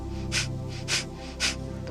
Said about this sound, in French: J'inspire et j'expire toujours par le nez